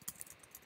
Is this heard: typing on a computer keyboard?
yes